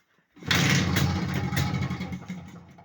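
An Izh Planeta 3 motorcycle engine catches after the carburettor is primed, then settles into a loud, close, rough running putter, with no one talking.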